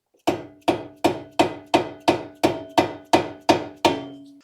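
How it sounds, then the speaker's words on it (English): Soft dead blow hammer strikes a nut threaded back onto the steering knuckle of a 2013-2019 Ford Escape during front strut replacement: ten evenly spaced, close, firm knocks, each leaving a short metallic ring. "Going to put the nut back on and hit it with a soft dead blow."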